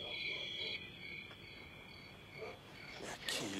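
Steady crickets chirping at night in the film Close Encounters of the Third Kind, a faint continuous high trill that thins out and gives way to a few brief rustling sounds near the end.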